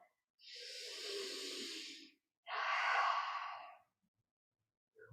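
Two deep, full breaths during a yoga practice, a long slow inhale followed by an airy exhale, close and clear in an otherwise quiet room.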